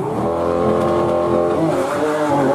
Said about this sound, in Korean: 포효하는 듯한 내연기관차의 엔진 소리를 그리워하는 사람도 많습니다